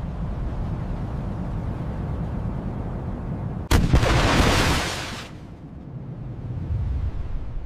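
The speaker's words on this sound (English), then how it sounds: "Breaking gravity, the rocket carries the stack to low Earth orbit." Rocket launching a satellite stack toward low Earth orbit: a sudden loud roaring burst of broadband thrust noise that holds for about a second and a half, then fades into a steady background rumble.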